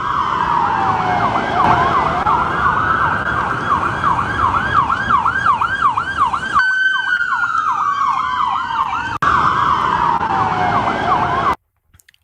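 Emergency vehicle sirens wail outside the White House in Washington, D.C., several overlapping sweeping and yelping tones, loud and close, continuing for about eleven seconds before cutting off.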